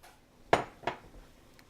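A lid set back down over a pot of simmering curried chickpea and vegetable stew gives two sharp metallic clanks, the first louder, close by in a quiet kitchen.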